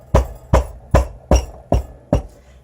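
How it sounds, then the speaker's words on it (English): A mold of freshly poured soap batter is tamped down with six firm, evenly spaced thuds, close and loud, about two per second. "I'm just going to tamp this down"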